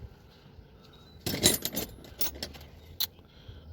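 Old metal hand tools such as wrenches and breaker bars clink and jangle as they are handled and set down, in a short burst of bright metallic rattles followed by a few lighter clinks.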